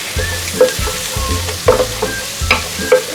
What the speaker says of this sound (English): Now get in your crispy fish fillets. Give it a good stir.